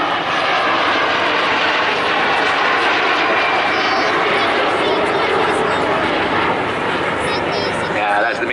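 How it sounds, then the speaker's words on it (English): A MiG-15 and a twin-seat de Havilland Vampire fly in formation at an air show, their jet engines a loud continuous roar. An announcer talks over the sound. "They swap lead in the turn now, the MiG-15 in the lead, single seat on the left and the twin-seat Vampire on the right."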